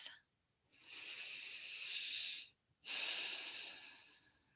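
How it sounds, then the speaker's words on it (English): Long, deep inhalation and exhalation during a guided meditation, two sustained airy breaths close to the mic, each a few seconds long, separated by a brief quiet pause. "just take a long cleansing breath."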